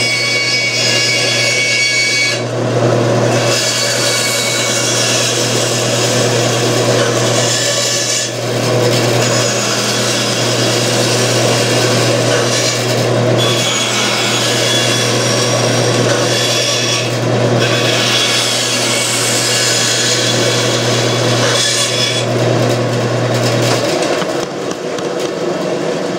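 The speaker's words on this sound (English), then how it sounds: "Now I'll be able to take the bandsaw and go straight to this cut and have room to play with so I can move my material around to make this cut." A bandsaw cuts relief cuts into a piece of wood, its motor humming steadily for about twenty-five seconds beneath a rasping, grinding blade noise that swells and eases as the workpiece is pushed and pulled back.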